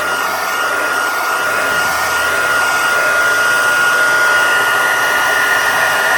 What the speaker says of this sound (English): And it has two settings, the Stampin' Up heat tool.